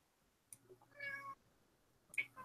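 A cat meows twice, a drawn-out mew and then a short sharp one about a second later, fairly close and clear against a quiet room with no talking.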